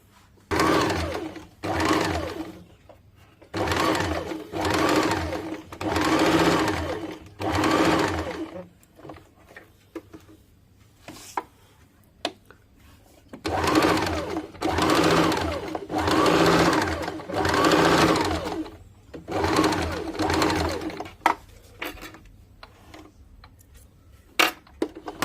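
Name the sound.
sewing machine stitching a blouse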